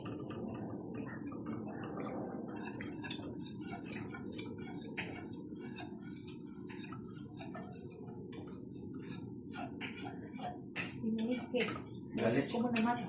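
Flour stirred in a pan for a bechamel sauce, with clinks and scrapes of a utensil against metal and rhythmic ticking taps, fairly quiet, under a voice talking.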